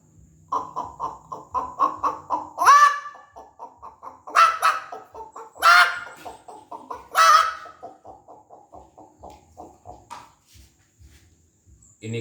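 A man does a vocal imitation of a hen clucking. Rapid, rhythmic clucks run for several seconds, broken by three or four loud, sharp squawks, then trail off. The sound is close and alone.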